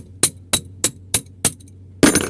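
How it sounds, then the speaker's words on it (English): Hammer strikes a metal stick wedged into an engine being opened, giving five sharp, evenly spaced ringing metallic clinks up close, then a denser clattering hit at the end. "then I can put this stick and then you use the hammer."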